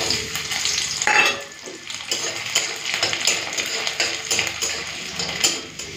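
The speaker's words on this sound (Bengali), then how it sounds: "প্রথমে শুকনো লঙ্কা রসুনটা ভেজে নিই" Dried red chillies and garlic frying in hot mustard oil, a steady crackling sizzle with occasional clinks and scrapes of a spatula stirring in the pan, close and without talk.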